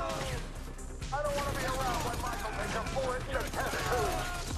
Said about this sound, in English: Oh my god, he shot me